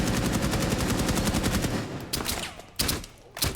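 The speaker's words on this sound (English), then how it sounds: "And we hear gunshots do going out." Rapid automatic gunfire from the video game Rainbow Six, a dense sustained burst followed by a few separate sharp shots, loud and close with no talking.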